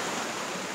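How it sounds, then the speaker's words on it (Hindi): Water pours down Chirchiri waterfall in Jashpur, Chhattisgarh, a steady broadband rush heard alone for a brief moment. "यहाँ से पानी नीचे की ओर जा रही है चिरचिरी वाटरफॉल का"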